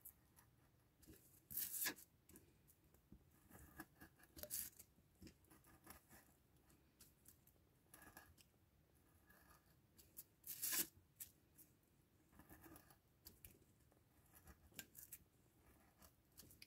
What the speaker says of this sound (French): Ça va tout seul à découper dans la mousse.